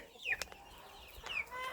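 Chickens and chicks in a farmyard give a few quick clucks and thin high peeps, quiet and close, spaced over a short stretch.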